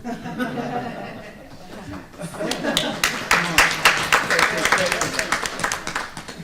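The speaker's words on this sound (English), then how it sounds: "You guys should be clapping by now." Attendees at a Board of Registered Nursing meeting break into clapping mixed with chuckles and laughter, a quiet stretch of talk and laughing giving way to a burst of scattered, sharp handclaps from a small group.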